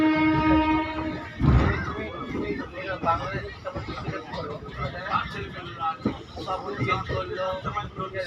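A train on the Asansol to Malda run passes Andal Junction onto the Andal–Sainthia line, with a horn sounding briefly at the start over continuous rail rumble while someone talks and background chatter carries on.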